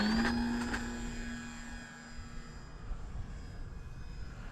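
An E-flite Cherokee 1.3m RC airplane drones overhead, its motor whine sliding in pitch and fading as it turns back into the wind, faint against outdoor wind noise.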